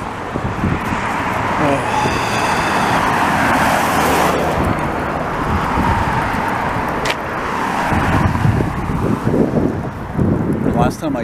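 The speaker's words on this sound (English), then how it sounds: "lot of cars on this boulevard though." Steady road traffic along a busy suburban boulevard in Longueuil, Quebec, a continuous loud wash of passing cars with rising and falling swells, heard from the sidewalk.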